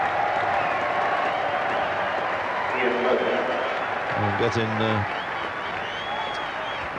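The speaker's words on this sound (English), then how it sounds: "extremely good reception from this bank holiday crowd" A bank holiday cricket crowd at Lord's applauds Ian Botham walking out in the England v Sri Lanka Test, a steady wash of clapping from the stands beneath a commentator's voice.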